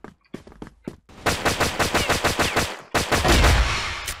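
Gunfire from an M200 Cheytac sniper rifle in the video game CrossFire. A few separate sharp shots are followed by a fast, evenly spaced run of loud cracks, then a heavy booming burst at the end.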